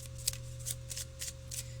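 Lenormand oracle cards are shuffled by hand in a quiet room, a series of soft riffling bursts at an uneven rhythm over a low steady hum.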